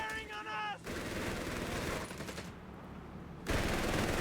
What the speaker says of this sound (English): With a single heavy machine gun.